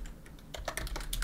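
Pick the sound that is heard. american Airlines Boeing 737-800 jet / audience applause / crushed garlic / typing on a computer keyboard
typing on a computer keyboard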